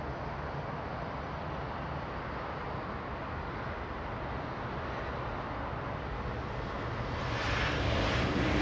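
A Southwest airliner takes off from runway 24 at Los Angeles International Airport, a steady broadband jet engine roar heard from a distance that swells slightly louder near the end.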